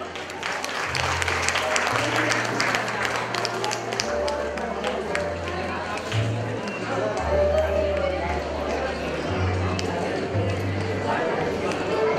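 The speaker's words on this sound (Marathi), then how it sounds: "आपण जोरदार टाळ्या वाजवूयात" A crowd applauds at a public commemoration event, dense continuous clapping with loud low hum from the hall's sound system running throughout.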